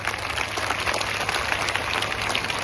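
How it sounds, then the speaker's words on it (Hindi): Students in a large crowd applaud for Anand Kumar at an event, a dense, steady roar of clapping heard throughout, loud and unbroken. "एक बार जोरदार तालियां आनंद कुमार जी के लिए।"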